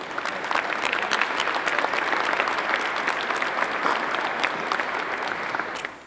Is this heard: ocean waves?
no